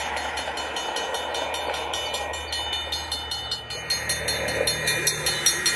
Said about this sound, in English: That's the 2nd Gen Safran mechanical bell.